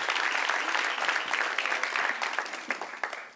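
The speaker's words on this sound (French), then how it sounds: "On l'applaudit, s'il vous plaît." Crowd clapping at a public gathering, a brisk burst of many hands that stays fairly even then thins out over a few seconds, fairly close.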